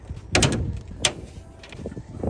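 A Subaru Impreza bonnet is closed over a newly fitted Chargespeed front bumper. A sharp metallic thud lands near the start, a second clunk follows a moment later, and quieter knocks trail off afterward.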